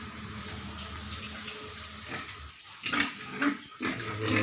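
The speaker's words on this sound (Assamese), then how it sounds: "দিলোঁ গাহৰিখিনি শুই আছে, দানা দিয়া নাই," Farm pigs grunt in short, low bursts close by, mixed with the splash and hiss of running water that fills the background for a few seconds.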